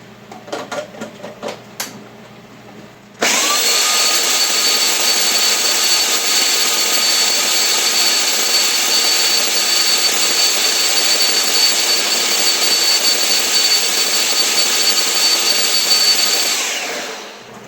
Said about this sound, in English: we're going to put it back on the blender here